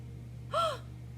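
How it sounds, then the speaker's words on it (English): A storyteller acts out a short, sharp gasp, a single quick intake of breath over a faint steady hum, with no other voices. "Kitty gasps"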